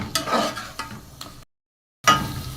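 Garlic and ginger paste being stir-fried in a pan for achari dal, with bursts of scraping and sizzling, a short silent gap, then stirring resumes close and fairly loud.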